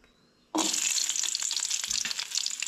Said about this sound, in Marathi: सो लसूण म्हणटा तशी हलकीशी भाजून घेवंक जाय